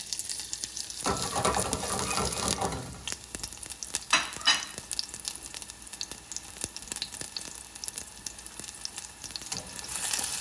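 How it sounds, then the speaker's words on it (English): Sliced shallots soften in olive oil in a pan over medium heat, giving a steady close sizzle with stirring scrapes and a few utensil clicks, no one speaking. "We want to start with our shallots on, say, a medium heat."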